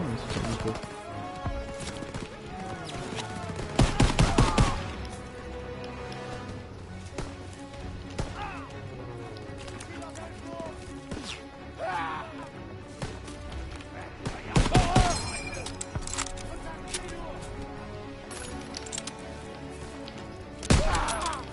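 Gunfire in the World War II shooter Call of Duty WWII, with bursts of loud shots around 4 and 15 seconds and another near the end, over continuous game sound and someone talking.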